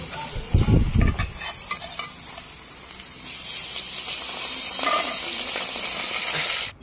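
Tengra fish fry in hot oil in a wok, giving a steady close hiss and sizzle that holds through the whole stretch after a few brief clattering knocks at the start, then cuts off abruptly at the end.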